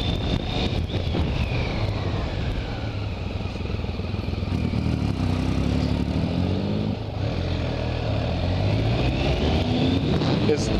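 Motorcycle engine revving unevenly as a learning rider dumps the clutch, a loud, steady roar with wind noise and clatter throughout, rising and falling pitch across the clip.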